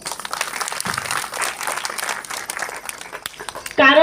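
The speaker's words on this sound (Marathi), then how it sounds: "त्यासाठी तुमच्यासाठी जोरदार टाळ्या" Audience applause at a talk, a steady patter of clapping from a seated crowd that continues for several seconds before a sudden louder burst at the end.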